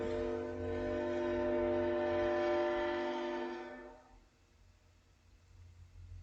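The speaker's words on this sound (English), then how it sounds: "Fucking train." A train horn blares loudly and steadily for about four seconds, then cuts off, leaving a lower rumble of the passing train.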